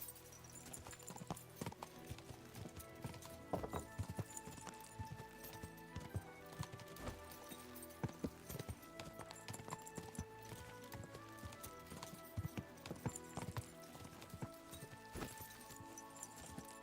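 Horse hooves clip-clopping in the video game Kingdom Come: Deliverance II, a steady run of quiet, close hoofbeats with a faint whinny hint, heard alone without talk.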